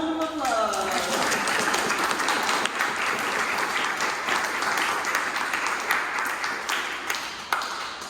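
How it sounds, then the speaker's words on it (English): An audience at an artist talk in a Seattle gallery breaks into applause, a dense burst of many hands clapping that swells quickly and then fades slowly, with a few louder claps near the end. "Let's give them a round of applause."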